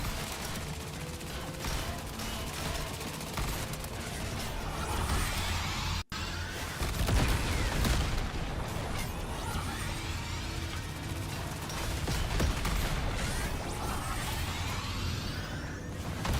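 Rapid, busy shotgun gunfire in the Trailmakers game, a dense continuous barrage of blasts with whooshes and crashes lasting throughout, loud and sustained.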